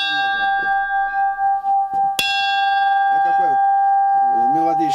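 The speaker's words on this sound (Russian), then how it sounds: "А это колокол." A single strike on an old bell dated 1774 rings out clearly close by, its bright tone sustaining over a long decay while someone talks before and after it.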